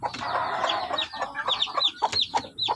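A small native hen clucks inside a brooder cage with her new chicks, a close run of repeated clucks and chirpy calls growing more rhythmic toward the end.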